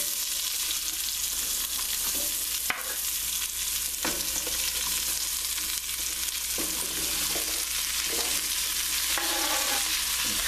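Mixed vegetables frying and cooking down in a pan for chicken with white beans and okra, with a steady loud sizzle and scraping stirs throughout, plus a sharp knock near the middle and no talking.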